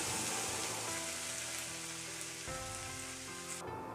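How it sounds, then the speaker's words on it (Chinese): Hot oil, freshly heated to smoking, is poured over chopped seasonings and white sesame in a bowl, giving a loud, steady crackling sizzle that holds for several seconds before easing off near the end. "再淋上刚烧开的热油爆香"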